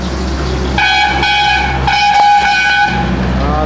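A train passes in India with long, steady horn tones sounding repeatedly over a loud rumbling background, with no talk.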